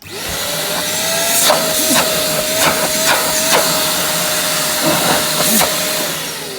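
A Parkside PNTS 1300 E4 wet-dry vacuum cleaner runs close and loud with a steady whine, broken by several sharp knocks and clatters.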